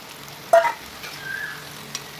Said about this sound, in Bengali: এরপর আমি কেটে রাখা চিকেনটাকে এর মধ্যে দিয়ে দেবো।